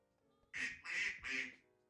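Three loud, evenly spaced duck quacks from an AI-generated sound effect, each about a quarter second long, close and clear over near silence.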